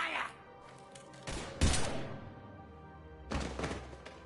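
Gunfire in the sci-fi shooter Mass Effect Legendary Edition: a few sharp bursts of shots, a heavier thump in the middle and another burst near the end, mixed with game voices and background effects.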